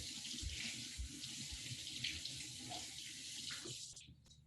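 Tap water runs steadily into a kitchen sink while lemon cucumbers are washed, a close hissing stream with small splashes and knocks before it shuts off.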